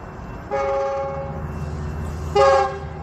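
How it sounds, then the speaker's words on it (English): Train horn sounds twice over steady background rumble, first blast at moderate level, the second louder and nearer, as a train approaches in the distance. "You hear the train? It's coming."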